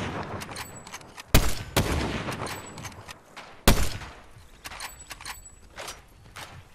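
Gunfire in the video game Fortnite comes as two sharp loud shots over a busy background of game sounds, with footstep-like clatter and light clicks between them, and no talking.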